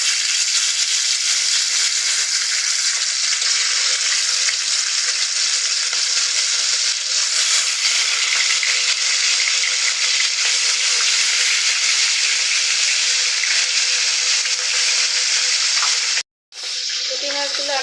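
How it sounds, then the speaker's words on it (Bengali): Small puti fish (shorputi) dropped into hot oil, a loud continuous sizzle and crackle with no talk, broken by a brief silence near the end and a short clatter. "তেল গরম হয়ে গেছে। এবার আমি এক এক করে পুঁটি মাছগুলো দিয়ে দেব।"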